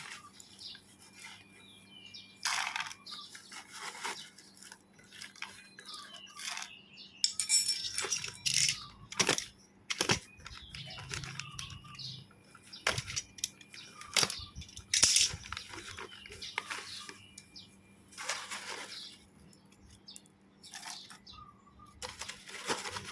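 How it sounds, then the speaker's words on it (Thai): Size-101 volcanic pumice stones are poured into the bottom of a cut plastic-bottle pot for planting cactus, giving scattered clattering rattles and light tumbling clicks in uneven bursts, close and without talk. "เอาหินภูเขาไฟเบอร์ 101เนี่ยนะคะ ใส่รองก้นกระถางค่ะ"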